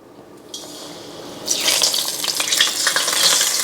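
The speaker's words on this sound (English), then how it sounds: "just going to pour this straight into the hot oil and see if that works" Loukoumades dough poured into oil at 180 degrees, a soft hiss rising to a loud, steady crackling sizzle of frying that carries on to the end.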